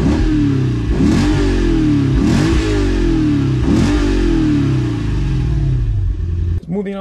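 A 2008 Lexus IS-F V8 revs hard through its exhaust, sweeping up in four or five sharp, loud blips that fall back between pushes, with a short clatter at the end.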